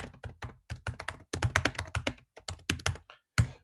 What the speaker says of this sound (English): So I can type in this.